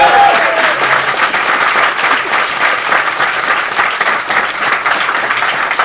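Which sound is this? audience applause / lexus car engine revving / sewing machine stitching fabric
audience applause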